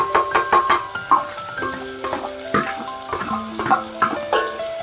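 Mutton with fat and kidney stirred in a pan with salt, turmeric and coriander powder, giving a soft sizzle under repeated metallic spoon scrapes and clanks against the vessel in an uneven rhythm.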